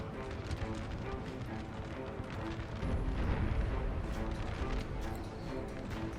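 Napoleon Total War battle at Friedland, 1807, with a battery of seven 12-pounder cannons firing amid a dense, continuous rumble of battlefield noise, with heavy booms swelling louder midway through.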